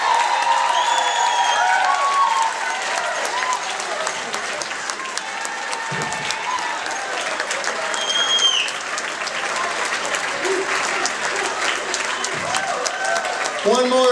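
A large audience claps continuously, a thick wash of applause with some scattered cheers and whistles rising above it.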